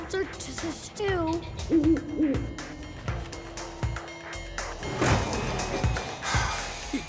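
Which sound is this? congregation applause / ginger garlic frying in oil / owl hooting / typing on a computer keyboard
owl hooting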